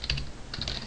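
Computer keyboard keys clacking in a quick burst of close, crisp typing strokes, a short pause, then another cluster of taps while entering Java code.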